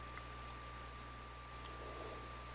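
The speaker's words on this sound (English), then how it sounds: "I'll hit enter on my keyboard." A few faint, quiet key clicks from a computer keyboard as enter is pressed, set against a steady electrical hum and room noise with no talking.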